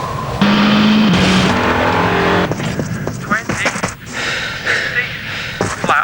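Rally car from the WRC video game, a loud revving engine whose pitch climbs and drops through gear changes, with bursts of skidding and tyre squeal and a voice talking over parts of it.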